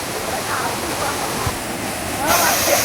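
Kuruvakkayam Waterfall near Thodupuzha, a steady broadband rush of falling water, close and loud, swelling slightly toward the end.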